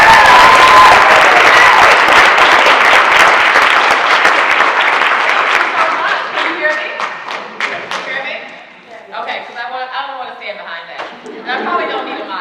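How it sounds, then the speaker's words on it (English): Audience applause at a chamber of commerce DEI summit, loud dense clapping from a crowd that slowly thins out, then scattered claps and murmuring chatter as it dies down. "Let's give her a big round of"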